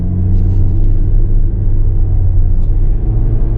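A 2024 Kia Soul S small crossover pulls away and accelerates, its engine a steady, loud low rumble with no talk over it.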